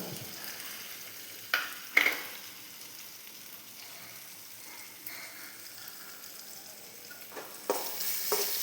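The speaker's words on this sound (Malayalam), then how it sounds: "ഇനി ഇതിലേക്ക് നമുക്ക് ചെറിയുള്ളി ഇട്ട് കൊടുക്കാം" Shallots frying in a pan for a Kerala sardine curry, a faint steady sizzle broken by a few louder sputters and stirring scrapes, with a sharper burst near the end.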